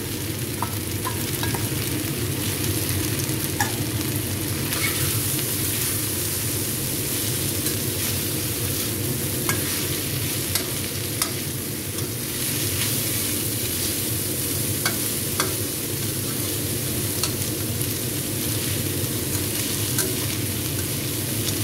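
Meat stir-fried in a pan for an eggplant dish: a constant hissing sizzle runs throughout, broken by occasional light clicks of stirring.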